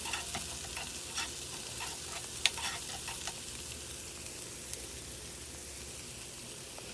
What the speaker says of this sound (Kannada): ಟೊಮ್ಯಾಟೊ ಹಾಕಿ ಸ್ವಲ್ಪ ಚೆನ್ನಾಗಿ ಬಾಡಿಸ್ಕೊಳ್ಬೇಕು.